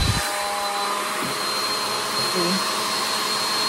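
A hair dryer blows hot air onto cellophane with a loud, steady whirring rush that lasts the whole time, while one brief word is spoken at the start.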